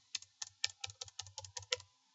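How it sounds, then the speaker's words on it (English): Rapid keystrokes on a computer keyboard, about nine crisp clicks in a quick irregular run, close and fairly quiet, with no voices. "I'm going to hit enter on the keyboard."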